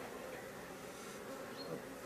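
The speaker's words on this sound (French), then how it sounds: "On va chasser les abeilles tout doucement sans les écraser." Honey bees buzz continuously while a beehive is opened and handled, a dense, faint, steady hum close by with no voices.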